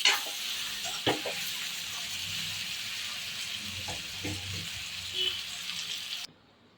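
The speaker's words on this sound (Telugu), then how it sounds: "ఇప్పుడు కలుపుతున్నాం." Ridge gourd chutney mixture sizzles steadily in a pan while being stirred, a constant close hiss broken by a few soft scraping knocks of the spoon before it cuts off abruptly.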